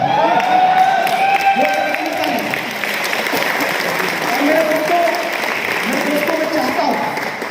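An audience at a fifth-anniversary event bursts into loud applause with cheering and whoops, continuous and full, while voices and music carry through underneath.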